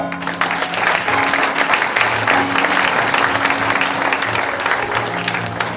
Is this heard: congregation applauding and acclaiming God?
yes